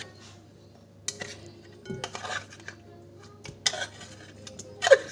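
Canned tuna is spooned into a Tunisian brik filling in a home kitchen, with scattered clinks of a metal utensil against a bowl, light scraping, and a brighter tap near the end, over a low steady hum.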